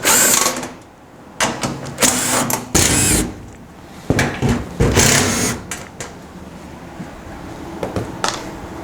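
A power tool whirs in repeated short bursts while removing screws from the metal back panel of a front-load washing machine, with clicks and handling noise between bursts.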